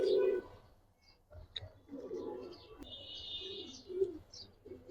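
Giribaz and coloured pigeons cooing, a few soft low coos spread across a quiet stretch with faint chirps, fairly close but gentle.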